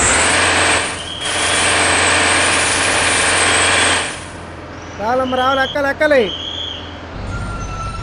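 Hand brake of a Volvo B9R bus in Bus Simulator, heard as a loud hiss of released air over a steady engine idle that cuts off partway through. A voice talks briefly over the engine.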